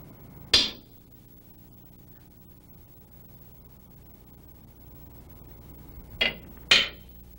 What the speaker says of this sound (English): Wearing goggles and a mask, center punch all six locations.